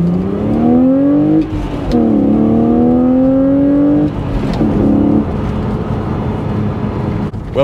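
A BMW Z4 engine with the sound generator bung removed revs repeatedly up close: several loud climbing blips that drop back between pulls, a deeper throb at the end, and no voices.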